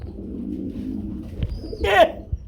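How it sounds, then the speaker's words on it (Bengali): Domestic fancy pigeons of a red colour variety coo in a loft, a soft low cooing building to a brief louder burst near the end, with faint background noise. "এটা কি শৌখিন কবুতর রেড কালার"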